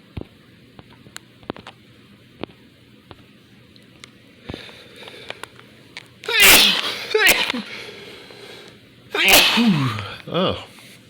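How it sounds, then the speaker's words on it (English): Two sharp human sneezes burst out close and loud after a stretch of quiet clicking, each followed by a shorter trailing burst, with a voice briefly audible around them. "I had a sneeze"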